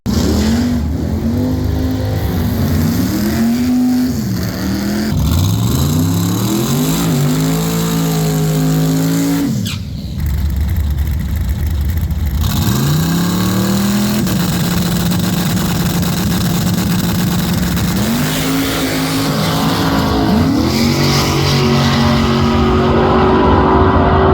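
A race car engine runs loud and close during a tuning test, rising and falling through repeated revs with a short dip near the middle before revving hard again.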